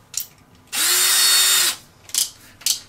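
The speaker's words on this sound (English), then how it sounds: "We're going to find a drill that will basically get inside and just be just a slight bigger than the actual diameter of the hole you're trying to drill into" A power drill bores a hole in the metal of a homemade RAID hard drive cage, a single loud, steady whine lasting about a second, with brief tool clicks before and after.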